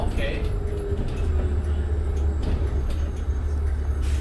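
A 2005 New Flyer D40LF city bus on Calgary Transit route 37 to Canyon Meadows, its engine a steady low rumble with an air-brake hiss near the start, heard from inside under ongoing conversation.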